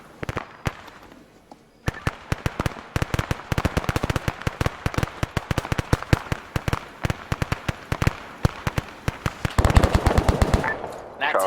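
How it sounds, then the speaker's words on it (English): Machine guns fire in the Arma 3 video game, long rapid bursts of sharp, loud shots rattling almost continuously for several seconds, with brief pauses and denser firing toward the end. "Those machine guns firing out."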